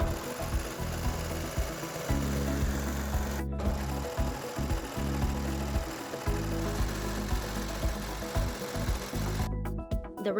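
A sewing machine stitches a seam on folded ribbons for children's pants, running in a close, steady rattling whir for several seconds with brief pauses between bursts.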